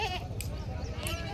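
Goats bleating at a livestock goat market in Vasmat, Hingoli district, Maharashtra, with a couple of short bleats rising over a busy, murmuring crowd background.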